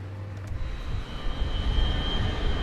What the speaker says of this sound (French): Je démarre le moteur numéro 1.